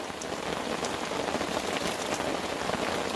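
Steady rain pattering on a camping tarp at a wooded site in North Carolina, a dense, even hiss of drops with no pauses.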